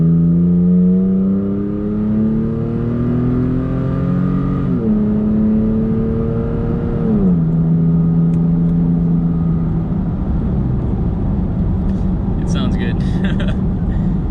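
A third-generation Toyota Tacoma pickup engine with a CARVEN cat-back exhaust revs up loudly, rising in pitch in steady stages, dropping briefly, then settling into a deep rumble.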